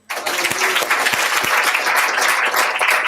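A church congregation applauds during a worship service, dense steady clapping from many hands filling the room at full volume for the whole stretch.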